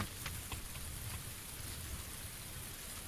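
Rain falling in the battle royale video game PUBG, a faint, steady hiss of drops that holds evenly throughout, with no voices.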